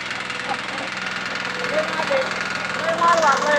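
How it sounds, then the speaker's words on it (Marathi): A loaded farm tractor hauling fodder bundles down a village road runs with a steady rumbling, knocking engine close by, while someone talks over it. "ट्रॅक्टर"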